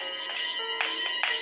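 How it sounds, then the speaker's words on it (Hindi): A faint electronic ringtone trills in short repeated bursts at a moderate distance, with a steady background hum. "किसी के फोन स्टेप्स की आवाज आ रही है और ये घंटी बज गई।"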